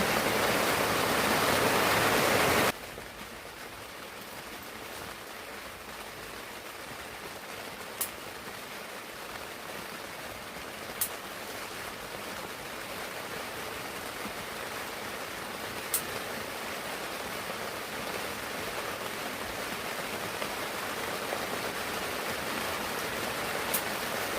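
Heavy rain pours down in a dense, even hiss that starts briefly louder and then settles into a steady roar, with a few faint drips or clicks and no voices.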